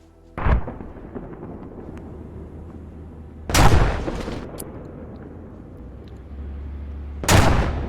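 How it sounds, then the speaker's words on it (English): Mortar rounds landing in a video game, three heavy, booming impacts spaced a few seconds apart, each with a rumbling tail over a low background hum. "The mortars landed right on Bravo."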